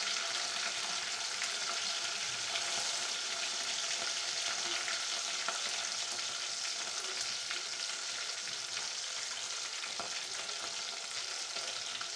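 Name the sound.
onion and ginger garlic paste frying in oil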